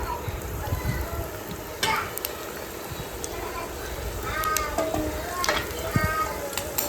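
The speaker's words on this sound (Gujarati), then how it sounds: "આ 1 કિલો તેલ આપણે ગરમ કરી લીધું છે, ને હવે આપણે આની અંદર નાખશું વઘાર કરવા માટે।" Spices sizzle and crackle steadily in about a kilo of hot oil, tempering for mango pickle, with occasional stirring clinks, while a voice talks intermittently over it and a child is faintly heard.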